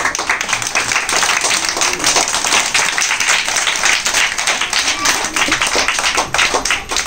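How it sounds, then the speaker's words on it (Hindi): A crowd claps together on cue at a live event, a dense, loud run of overlapping hand claps that keeps a fairly even pace throughout, close and unbroken by speech. "सब लोग एक बार तालियां बजाइए।"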